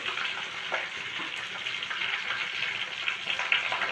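Cumin seeds and curry leaves sizzle steadily in hot oil in a pan, a dense, close, continuous frying crackle with no talking.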